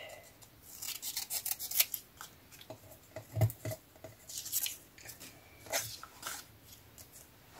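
Scissors snipping through paper while cutting around a printed picture, a quiet series of irregular crisp cuts and rustles arriving in short bursts, with no talking.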